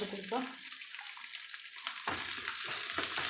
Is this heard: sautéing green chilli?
yes